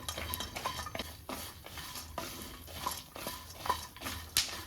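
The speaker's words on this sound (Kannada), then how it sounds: "ಈಗ ಬೀಜ ಎಲ್ಲ ಚಟ್ ಚಟ್ ಅಂತ ಇದೆ ಅಂದರೆ ಇದು ಫ್ರೈ ಆಗಿದೆ" Dry fruits and nuts being fried in ghee in a pan, with light spoon scrapes and faint crackling and popping, repeating through the clip at close range with no talking.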